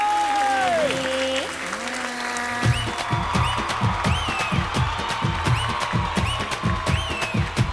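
A studio audience at a televised mothers' contest finale claps loudly and steadily to welcome the top five finalists on stage, with musical tones ringing before and under the applause.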